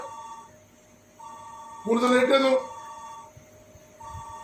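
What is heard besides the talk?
phone ringing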